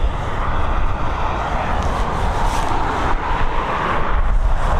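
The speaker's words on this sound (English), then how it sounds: "Got another A321neo, this time heading over to Toronto, operated by Aer Lingus" Aer Lingus Airbus A321neo jet at Dublin Airport, a loud continuous engine roar with broadband rumble and wind buffeting on the microphone, sustained steadily throughout with no speech.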